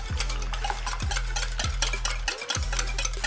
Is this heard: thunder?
no